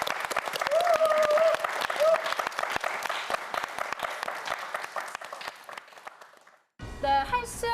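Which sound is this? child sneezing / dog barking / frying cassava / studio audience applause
studio audience applause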